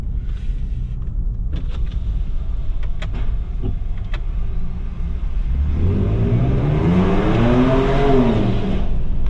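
A Ford Ranger Raptor pickup truck engine revs up hard and climbs in pitch, booming and echoing inside a tunnel, loud and close, with no talking.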